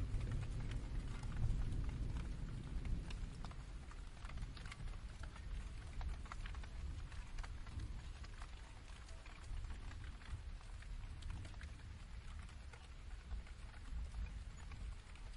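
Gentle rain falls steadily as a soft, continuous wash with a deep rumbling low end, dense patter at a moderate level from start to finish, with no voices.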